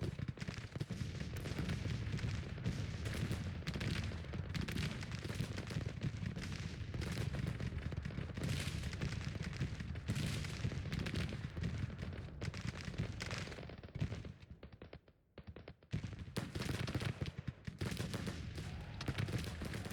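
Artillery and musket fire in the Civil War strategy game Grand Tactician: The Civil War, as a dense, continuous crackle of volleys and booming cannon that drops briefly to a lull before resuming at full strength, with no talking.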